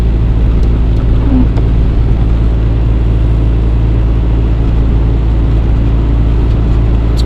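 Inside a Lexus GS300 drift car on the move, a loud, steady low engine and road drone fills the cabin without a break, with no talk.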